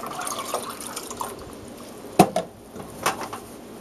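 Vinegar poured into a container of water for dill pickle brine, a soft liquid trickle with a couple of sharper splashy drips midway, close and fairly quiet, with no voices.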